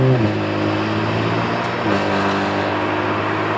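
A BMW 335 turbo engine revving at full power, a loud, sustained raspy drone whose pitch dips briefly and climbs again, close and steady with no talk.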